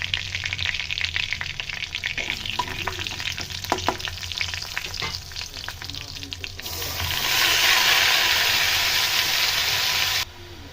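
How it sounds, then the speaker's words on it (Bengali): Cinnamon and two cardamom pods crackle in hot oil for a Bengali mushroom curry, a steady sizzle with occasional pops and stirring, then a louder rushing hiss as more goes into the pan; no talking. "দারচিনি আর 2টো এলাচকে এখানে ফাটিয়ে দিয়েছিলাম।"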